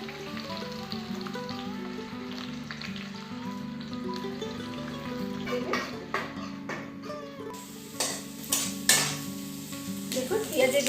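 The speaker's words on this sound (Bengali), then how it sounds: "দেখুন পেঁয়াজের বেরেস্তাটা ভাজা হয়ে এসেছে" Sliced onions sizzle steadily in hot oil for biryani birista, with a spatula stirring and scraping the pan in sharp irregular clinks that grow busier toward the end, loud and close.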